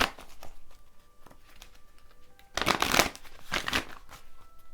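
Tarot cards are shuffled by hand, light riffling and flicking at first, then a louder, dense burst of shuffling near the middle that tapers into softer card rustles.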